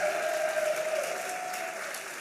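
An audience applauds the coaches at the TEDxRoxbury 2025 event: dense, steady clapping fills the room throughout, with a faint sustained tone running beneath it.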